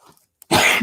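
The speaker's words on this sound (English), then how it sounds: "Now I'm coughing." After a brief near-silence, a single loud, harsh cough bursts out close by.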